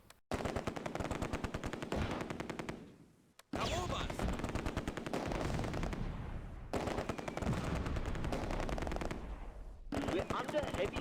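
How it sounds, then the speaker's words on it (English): Vickers machine gun and rifle section fire in a Close Combat A Bridge Too Far battle at Oosterbeek: dense, rapid automatic bursts rattle continuously with brief pauses, mixed with scattered rifle shots, loud and close. "We're under heavy fire. Move The Vickers targets an MG42 team in the open, and the rifle section joins in."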